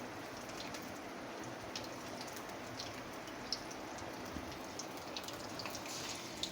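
Stuffed ash gourd pieces fry in oil, giving a faint, steady, rain-like sizzle with light crackles that continues evenly throughout.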